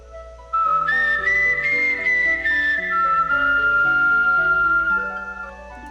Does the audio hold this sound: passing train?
no